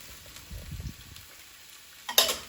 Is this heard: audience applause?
no